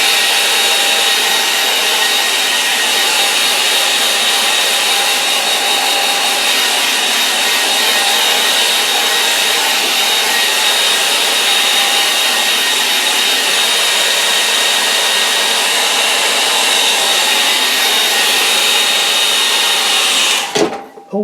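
A hair dryer drying an oil painting roars steadily and loudly at close range for about twenty seconds, then cuts off abruptly at the end.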